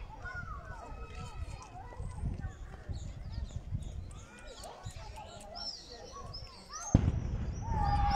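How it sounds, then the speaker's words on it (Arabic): People talk and murmur outdoors amid light background noise in Khouribga, Morocco, then a single deep boom of the Ramadan sunset cannon rings out near the end. "قريب تطلق المدفع"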